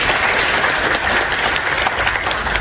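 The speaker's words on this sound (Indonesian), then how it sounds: "tepuk tangan lagi buat Pak Hayo" A room of people applauds Pak Hayo with loud, close, dense clapping that holds at an even level from start to finish.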